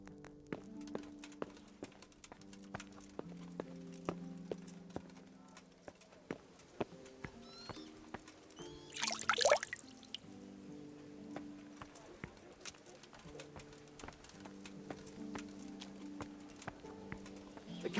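Horses clip-clop in the medieval Kingdom Come: Deliverance game, steady hoofbeats at a walking pace under soft background music, with a brief louder whoosh or snort near the middle.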